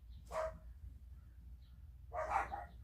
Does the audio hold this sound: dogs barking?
yes